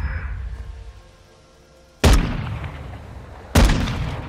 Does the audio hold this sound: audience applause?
no